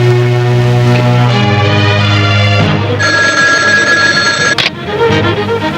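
A telephone rings loudly and close by, with a repeated electronic bell tone that changes pitch partway through before cutting off, in a dramatic indoor scene.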